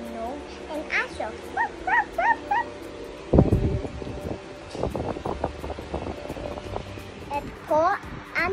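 A dog whimpers in high, repeated whines, then lets out a burst of barks, followed by more yips and whining; fairly close and loud.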